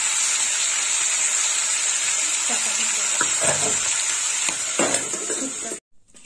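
Fish heads fry in hot oil with a loud, steady bright sizzle, close by, broken by a few spatula scrapes and knocks near the end before the sound cuts off abruptly.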